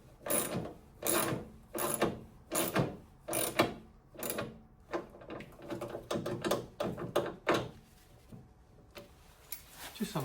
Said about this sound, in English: Turn my very old socket set round.